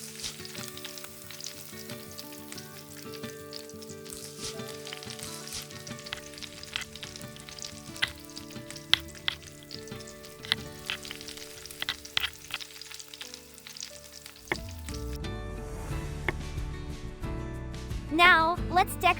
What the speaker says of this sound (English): Next, stir-fry shrimp with minced garlic.